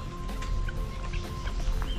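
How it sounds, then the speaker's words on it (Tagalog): Chickens cluck in short bursts over a steady, noisy outdoor background at a nature park. "Ayan manok."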